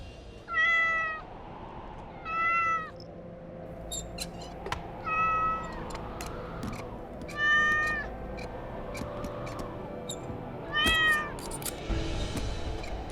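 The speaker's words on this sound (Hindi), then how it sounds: "बाहर बिल्ली रो रही है, जरा भगा करा।" A cat meows outside, five drawn-out, wavering cries spaced a few seconds apart, fairly clear against a faint background hum.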